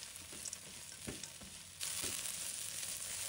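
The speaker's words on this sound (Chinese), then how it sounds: "再加入葱姜蒜，继续炒香。" Scallion, ginger, garlic and shiitake mushrooms stir-frying in a wok for braised pork knuckle, a soft hissing sizzle with light spatula taps that swells into a louder, fuller sizzle partway through.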